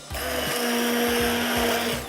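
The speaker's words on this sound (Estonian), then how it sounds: "Ja nüüd jääbki ainult kogu segu kokku saumikserdada." An immersion blender whirs through a layered mango and raspberry smoothie mix, one continuous loud motor drone with a steady high hum, lasting about two seconds.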